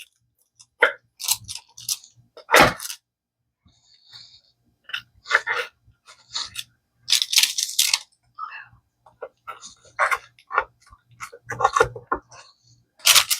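Cooled almond rocca toffee being cut and broken apart, sharp brittle cracks and crunches in scattered bursts, with quiet gaps and occasional talk between them.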